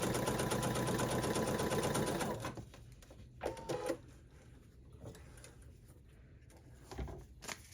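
A sewing machine runs fast, stitching quilt pieces along a marked line with a steady close whirring chatter for about two seconds, then stops, leaving soft handling clicks and rustles.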